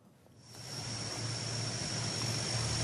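A C-130 military transport aircraft of the Royal Malaysian Air Force lands at an air base at night, its engine roar swelling from faint to a steady, fairly distant drone with a high whine.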